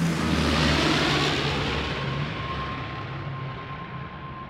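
A FedEx ATR turboprop arrives at Raleigh Durham International Airport, its broad propeller roar with a steady whining tone loud at first and slowly easing off, heard alone without talk.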